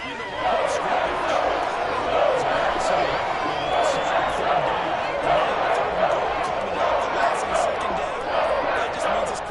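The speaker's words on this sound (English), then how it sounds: "That just means this crowd's going to get even louder." Stadium crowd noise in a Madden football video game, a steady, dense roar of many voices that holds evenly throughout with a commentator talking over it.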